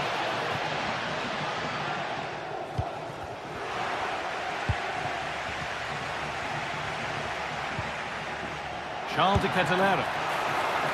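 Stadium crowd in a football video game, a steady broad roar under a commentator's voice, with a few thumps and a brief sharp burst near the end.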